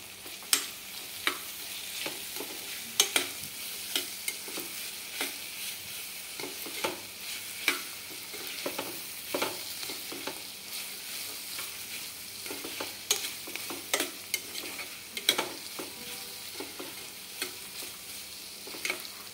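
Ginger-garlic paste fries in a pan over cooked vegetables, a continuous bright hiss punctuated by frequent quick spatula scrapes and taps, steady and close with no voices.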